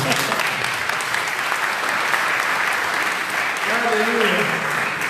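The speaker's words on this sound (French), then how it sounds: "Applaudissez pour le Seigneur." A congregation applauds at a French-language youth worship service, sustained dense clapping across the room. A voice calls out over the applause near the end.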